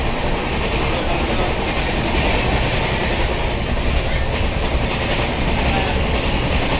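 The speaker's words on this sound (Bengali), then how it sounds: "ট্রেন এখন দুর্ধর্ষ স্পিডে চলছে" The Tamralipta Express 12857, running from Howrah to Digha, rushes along at high speed with a steady, dense roar of wheels and carriage rumble and no voices.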